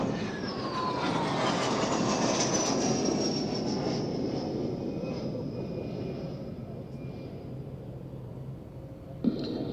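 A military jet roars overhead at the Waddington airshow, a loud broadband rumble with a descending whine as it passes and slowly fades, alone without talk.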